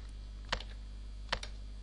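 Two quick clusters of computer keyboard keystrokes as values are entered in CorelDRAW graphics software, faint and close against a steady low electrical hum.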